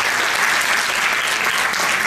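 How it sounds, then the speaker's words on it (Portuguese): Loud, dense applause from a crowd, sustained clapping throughout with no pauses. "Um forte aplauso para estes meninos e para estas meninas"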